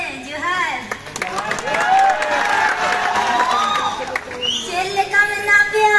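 Crowd clapping and cheering at a subscriber celebration meetup, with lively voices and shouts over scattered applause and talk rising in the mix.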